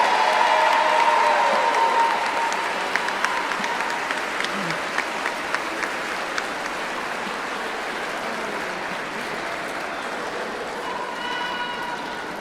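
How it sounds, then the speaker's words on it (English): A large crowd applauds at a school district's opening ceremony for the new school year, with sustained clapping throughout that slowly fades somewhat, along with a few faint voices. "Please give each school's Teacher of the Year a well-deserved round of applause."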